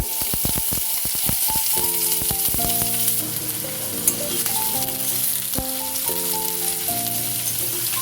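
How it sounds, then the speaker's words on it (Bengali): Onions frying in hot mustard oil with a dried red chilli, a loud steady sizzle with occasional stirring clatters and no talking. "পেঁয়াজটা ভেজে নিচ্ছি।"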